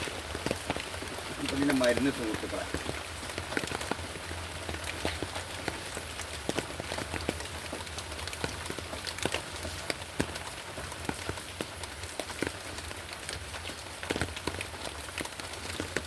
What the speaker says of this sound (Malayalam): മഴ മാറുന്നില്ല